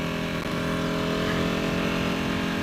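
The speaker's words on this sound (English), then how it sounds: "there you go, that's what it sounds like. I mean, it sounds like a motorcycle, but it sounds almost like a tractor" A Ducati Panigale 1299 with a dry clutch runs at a steady idle, a loud, close, continuous throbbing rumble with a rattly mechanical edge and no talking.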